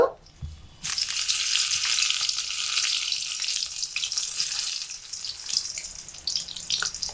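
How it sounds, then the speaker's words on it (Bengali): Steady, loud sizzling of eggplant pieces frying in hot vegetable oil, beginning abruptly after a brief quiet moment and continuing with crackles and pops. "গরম তেলের মধ্যে বেগুনগুলোকে অল্প অল্প করে দিয়ে ভেজে নেব"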